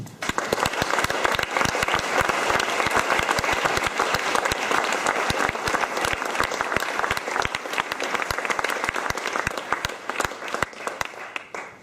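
An audience at Filmfest München gives Frank Spotnitz a sustained, dense round of clapping that stays loud and even throughout before tapering slightly at the end.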